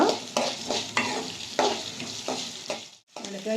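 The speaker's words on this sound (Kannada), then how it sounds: "ಎಲ್ಲ ಫ್ರೈ ಮಾಡ್ಕೊತೀನಿ ಈರುಳ್ಳಿ ಎರಡು ಈರುಳ್ಳಿ ಹಾಕೊಂಡಿದ್ದೀನಿ" Two onions frying in oil in a pan for chicken curry, with repeated stirring strokes and a bright close sizzle in bursts, briefly dropping to near silence before resuming.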